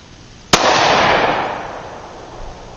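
A single sharp gunshot from a .410 derringer pistol fired outdoors at a bottle target: one loud crack followed by a broad, rolling echo that fades slowly.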